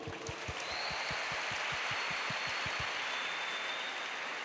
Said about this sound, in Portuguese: Eu quero palmas para todo mundo.